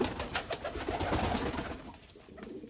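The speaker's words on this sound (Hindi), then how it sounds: "तो ये है मेरे फैंसी पिजन इंग्लिश पोर्टर" English Porter fancy pigeon cooing close by, a soft throaty burbling coo with a high steady whine running underneath, no talking.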